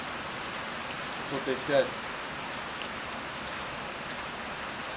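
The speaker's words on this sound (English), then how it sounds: "It's raining. Pretty hard." Hard, steady rain falls throughout as a dense, even hiss of drops on surfaces, with a brief voice speaking over it partway through.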